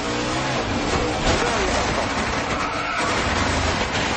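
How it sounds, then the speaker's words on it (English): Loud engines roar without a break, dense and close, as NASCAR cars cross the finish line and crash at the end of the 2010 Missouri-Illinois Dodge Dealers 250. "That's when he got hit by the 70 car Shelby Howard, and that really destroyed this car."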